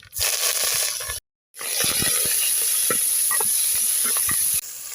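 Loud crackling sizzle of chopped manathakkali greens hitting hot oil in a pan, continuous with a brief silent gap, close up.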